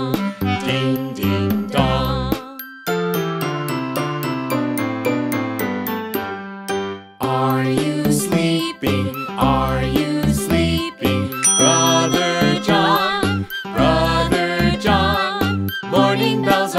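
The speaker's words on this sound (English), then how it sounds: "Morning bells are ringing, morning bells are ringing. Ding, ding, dong, ding, ding, dong." Bright, bell-like chimes ring out in a cheerful repeating melody, clear and close, with short pauses between phrases.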